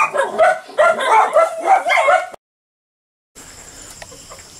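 Wet puppies cry and whimper in a rapid run of high yips and whines, close and loud, then a pause before faint high chirping resumes in the background.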